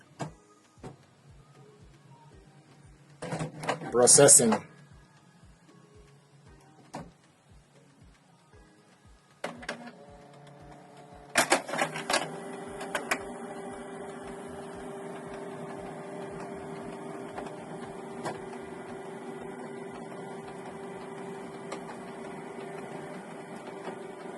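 A Canon PIXMA G650 printer runs its processing cycle after the print head is installed, giving a low steady mechanical hum with faint periodic clicks, a couple of louder whirring bursts and a sustained motor drone later on, with no voices.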